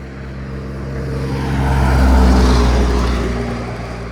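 A motor vehicle on Vermont Route 103 approaches and passes close by, its low engine rumble and tire roar swelling to a peak mid-way and then fading, with no voices.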